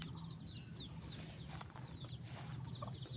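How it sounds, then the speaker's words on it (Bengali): Chickens roaming in scrubby undergrowth near a house, soft repeated clucks and chirps at moderate distance over a constant outdoor background hum. "এই দেখেন মুরগিগুলা এই দিক জঙ্গলের মধ্যে হয়েছে"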